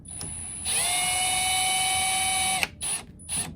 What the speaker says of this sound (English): we are just gonna go ahead and put the long screw in this side